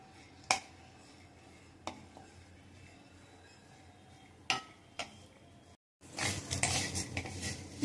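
Metal utensils clink sharply a few times against a pan as moong dal roasts. The strikes are spaced and close, with a quiet background, and a louder, busier stretch of stirring and scraping closes it.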